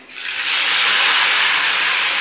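Onion, ginger, garlic and chili hit a hot pan with cumin, bay leaf and cardamom, giving a loud, steady hiss of sizzling oil that swells quickly and holds on its own with no talking.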